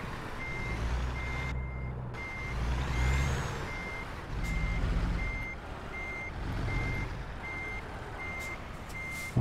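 Reversing beeps pulse steadily from a truck backing a trailer in American Truck Simulator, over a loud low engine rumble with a brief air-brake hiss, no talk.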